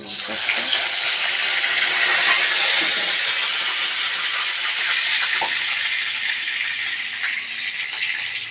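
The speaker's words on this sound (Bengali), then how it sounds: "তেলটা গরম হয়ে গেছে আর কারি পাতা আর এটা দিয়ে" Curry leaves dropped into hot oil for chira pulao set off a loud, steady sizzle and hiss that fills the whole stretch, close and continuous with faint kitchen clatter underneath.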